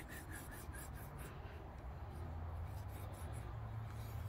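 Knife blade sharpened on a TSPROF Kadet Pro guided sharpener, a faint, steady rasping of stone strokes repeating evenly throughout, close and without talk.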